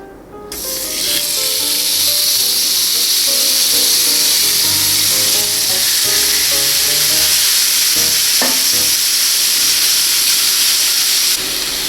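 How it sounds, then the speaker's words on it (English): Swordfish steak laid on a hot grill pan, a loud, continuous close sizzle that starts abruptly and holds steady throughout, with a few faint clinks and movements beneath it. "we got a hot grill pan ready to go here. Swordfish is going right in."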